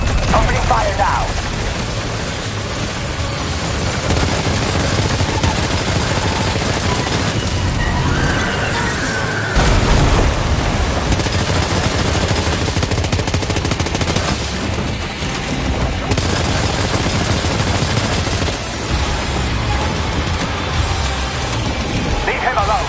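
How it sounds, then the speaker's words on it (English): Gunfire in Death Stranding 2: steady bursts of automatic shots crackle and rattle throughout, mixed with heavy thuds and mechanical clatter, while voices speak over the battle. "Opening fire now!"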